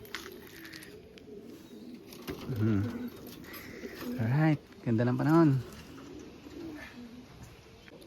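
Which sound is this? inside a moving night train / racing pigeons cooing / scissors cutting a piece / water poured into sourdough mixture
racing pigeons cooing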